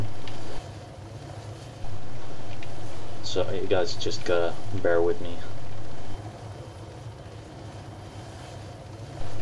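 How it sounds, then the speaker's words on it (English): A helicopter in ARMA 3 slowly touches down, its steady rotor and engine drone running throughout, under a voice talking in the middle. "I'm gonna do a very slow touchdown because I don't want the chopper blowing up in the middle of the video."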